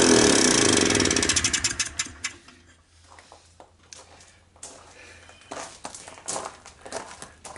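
A 1991 Polaris Explorer ATV engine, long abandoned, roars loudly for about two seconds, then sputters and fades, leaving scattered clanks and rustling handling noises.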